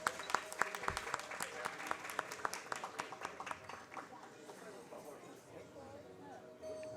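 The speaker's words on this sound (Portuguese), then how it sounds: "Uma salva de palmas." Audience applause at a 2021 executive board meeting, a steady patter of clapping that thins out toward the end, with faint voices beneath.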